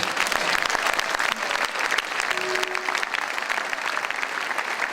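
Audience applause at a 2009 religious conference, a dense, steady wash of clapping hands throughout with a faint crowd murmur underneath.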